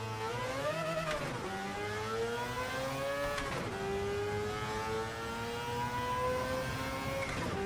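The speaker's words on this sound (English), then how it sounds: "So how high is this thing revving?" Turbocharged car engine in the racing game Gran Turismo 7, revving high through repeated gear shifts, each climb in pitch breaking off at a shift and rising again, steady and loud with no talking.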